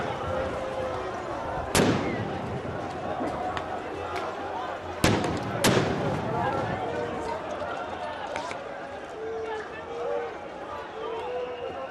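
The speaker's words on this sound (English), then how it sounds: "the explosions we're hearing, I think are tear gas bombs going off and expelling tear gas" Tear gas canisters explode at a pension protest in France, several sharp booms spaced a few seconds apart over a constant murmur of crowd noise.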